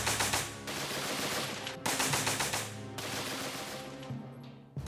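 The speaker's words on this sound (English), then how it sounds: "They would sweep the machine guns from side to side across the battlefield." Machine guns sweeping fire across a battlefield, sustained loud rapid bursts in three long runs with brief breaks between them, no voices.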